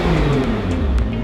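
A Nissan GT-R engine with a new Kline exhaust rumbles loudly and close, a deep throaty idle-to-rev drone filling the whole short moment.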